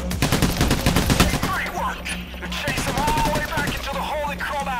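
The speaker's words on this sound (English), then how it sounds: "I guess shotgunning into the smoke" Shotgun fire in the Payday heist game rattles in a rapid cluster of loud blasts at the start, then thins to scattered shots while people talk over the action.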